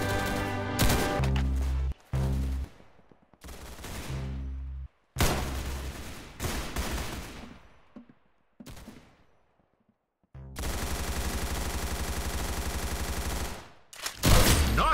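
Bursts of rapid gunfire from the Roblox shooter game Arsenal, loud and close, come in repeated volleys separated by short silences, with one long sustained stream of automatic fire near the end.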